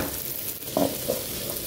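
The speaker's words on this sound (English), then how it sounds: "So that's the two eggs. We're going to be stirring them." Two eggs and vegetables frying and being stirred in a pan for fried rice, a steady close sizzle with a faint scrape from the stirring and no voices.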